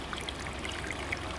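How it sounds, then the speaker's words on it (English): Water splashing and trickling steadily in an outdoor fountain where a globe revolves in the water, a continuous close, moderately loud stream with no voices. "They have a revolving globe that's like revolving in the water."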